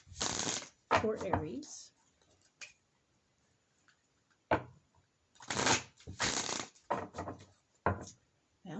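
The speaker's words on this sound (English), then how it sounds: "now we'll go ahead and shuffle these cards for the first week of February" Tarot cards being shuffled by hand, several loud riffling bursts with pauses between them, close up, with brief speech in between.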